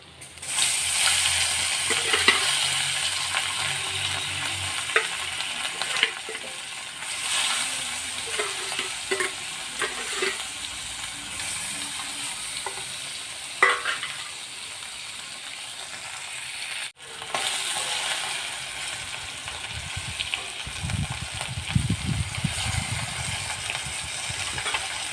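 Parshe fish sizzling steadily in hot oil in a pan for a spicy fish curry, with occasional clinks and scraping as pieces are turned and lifted, and a fresh burst of frying as more fish goes in near the end.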